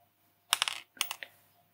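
An overlong pin header for an LED shield being clipped with cutters: two short clusters of sharp snips and clicks, close and crisp in a quiet room.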